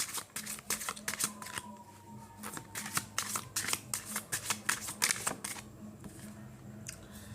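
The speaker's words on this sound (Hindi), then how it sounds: "चलिए और कार्ड्स निकालते हैं।" Tarot cards being shuffled and drawn by hand, a quick run of crisp riffling snaps and flicks, close and fairly quiet, with no talk over them.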